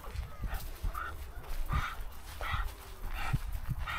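A large bully-breed dog, about eight months old, in a room gives repeated short barks and soft whimpers at close range, spaced irregularly over a low background rumble.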